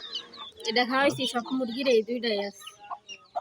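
Chickens cluck close by while a person talks over them, the birds' calls mixing with speech before a few scattered clucks at the end.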